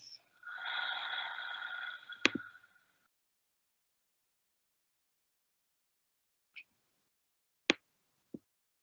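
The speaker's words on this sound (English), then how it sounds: "and breathing out the mouth." A slow, deliberate exhale through the mouth during a calming breathing exercise, soft and breathy for about two seconds, followed by near silence broken by a few faint clicks.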